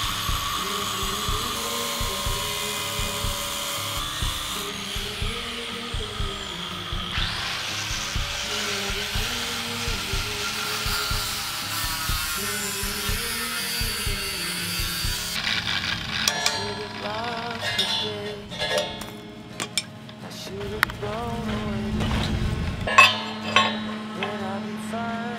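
A grinder cuts steel for a large boat anchor, a sustained, high whining drone with shifting pitch and rattling bursts that grows harsher toward the end.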